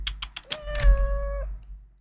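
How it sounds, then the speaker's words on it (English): A cat gives a single drawn-out, oddly nasal meow close by, preceded by a few quick clicks or taps. "You have a very weirdly, like, nasally meow."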